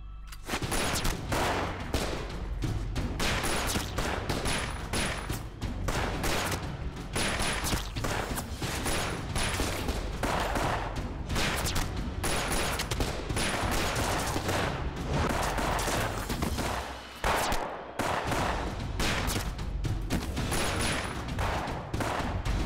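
Rapid bursts of gunfire crackle loudly and almost continuously in an action film scene, volleys of shots overlapping with dense battle noise and little pause.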